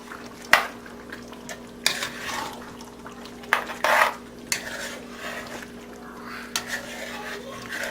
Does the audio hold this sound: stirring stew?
yes